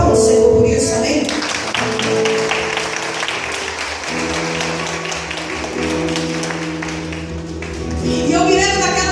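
A church congregation at a Catholic prayer group service claps together in a loud, dense burst of applause that carries on for several seconds, with voices and musical tones underneath.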